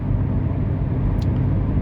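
A Renault Megane hatchback with a 1.6 16v K4M engine engine-brakes in fourth gear while descending a mountain road, a steady low engine drone and road rumble heard from inside the car, constant and fairly loud.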